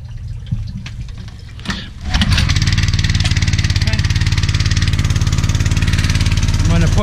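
A small petrol pressure washer engine cranks briefly, then catches on choke and settles into a loud, steady, fast-pulsing run that continues without letup, with a voice faintly heard before it starts.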